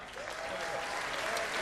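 An audience at a boxing fight applauds the fighters, a steady, dense wash of clapping from a sizable crowd throughout.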